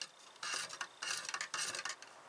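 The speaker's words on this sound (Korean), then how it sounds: "완전히 녹을 때까지 저어줍니다." Boric acid stirred into a nickel plating solution until it dissolves, heard as rhythmic scraping swirls of a utensil against a container in short repeated strokes, close and quiet.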